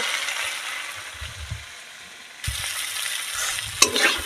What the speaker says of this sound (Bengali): আর একটু ভালো করে কষিয়ে নেব, তারপরে জল ঢেলে নেব।